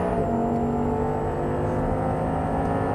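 A 2024-era Audi R8 engine pulls steadily on a racetrack just after an upshift, a sustained mid-distance drone with a faint whine rising early on, no talk.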